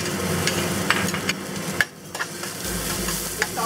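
Ginger, garlic and chili peppers sauteed in hot oil in a pan over medium-high heat, a steady close sizzle with a few stirring scrapes and a brief dip midway; no talking.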